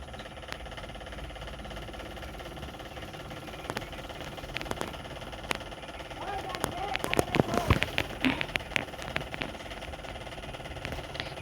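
Sewing machine stitching a blouse sleeve with a half-inch margin, a continuous mechanical hum broken by sharp clicks and rattles that grow busier near the end, while someone talks over it.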